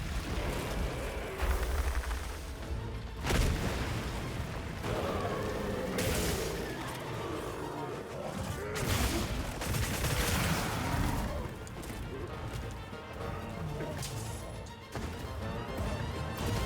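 A loud explosion in the video game Monster Hunter Wilds, with heavy booming bursts and crashing impacts rolling through a chaotic battle din over several seconds.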